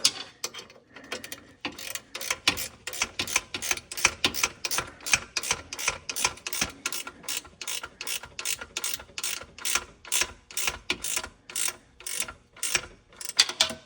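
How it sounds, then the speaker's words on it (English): Rapid ratcheting clicks from a wrench loosening a bolt on a catalytic converter of an '11–'20 Grand Caravan / '11–'16 Town & Country, coming in quick bursts of strokes, close and crisp, with no talk. "I'm gonna get a ratcheting wrench on that side."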